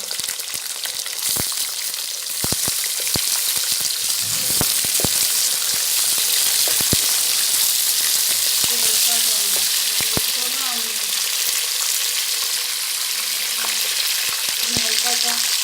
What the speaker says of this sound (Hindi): ये अब हम इसमें चिकन डाल देंगे।